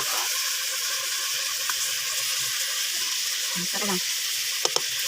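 Chicken for tinola sizzling in hot oil in a pan, a steady bright sizzle with a few stirring scrapes and clinks, while a person speaks briefly.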